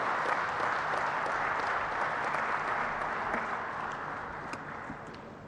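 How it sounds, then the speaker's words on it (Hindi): A large crowd applauds to welcome the Prime Minister at the opening of a Delhi–Mumbai Expressway section, dense sustained clapping that fills the whole stretch and fades slightly toward the end, with no speech over it. "तालियों से स्वागत माननीय प्रधानमंत्री जी का।"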